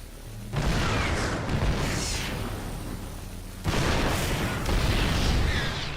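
Heavy continuous laser drill fire in StarCraft II roars in two long bursts against Protoss forces, dense and booming, with battle noise layered over it and no talk.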